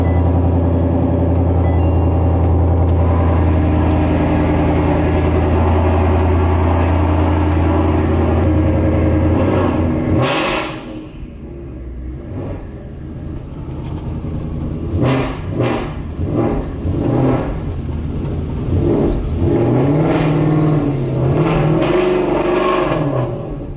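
A car nicknamed Killer B cold-starts with a loud, steady idle rumble for about ten seconds, then a series of sharp revs rises and falls close by, with no voices.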